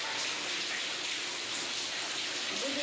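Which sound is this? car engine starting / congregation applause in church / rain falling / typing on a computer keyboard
rain falling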